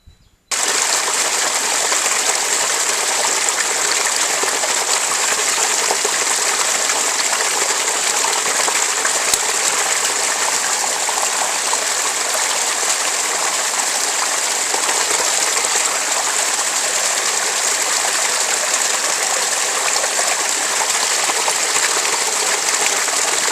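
A moorland stream or brook flows with a constant, bright rushing and trickling wash, close and steady for the whole stretch with no voices.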